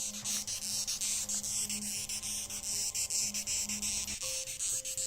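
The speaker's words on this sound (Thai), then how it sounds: "แมลงสีน้ำตาลแดงที่ชอบส่งเสียงดัง" Rapid, pulsing chirps of a reddish-brown cricket-like insect trill steadily and loudly, a continuous buzzing rhythm with a faint low hum underneath.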